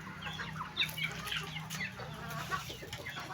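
Several chickens cluck and squawk close by while feeding, with short irregular calls scattered throughout over a low background hum.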